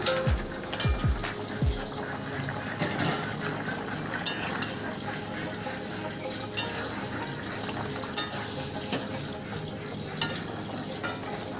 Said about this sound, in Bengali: ঝোলটা খুব সুন্দর ফুটতে শুরু করেছে এবারে আমি দিয়ে দেবো ভেজে রাখা বড়ি